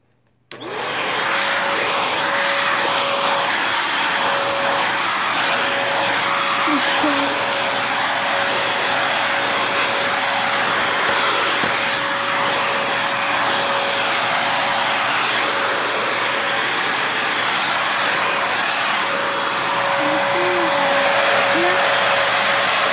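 A Bissell vacuum cleaner switches on abruptly and runs steadily nearby, a loud constant roar with a sustained motor whine, continuing for over twenty seconds with slight changes in tone as it moves.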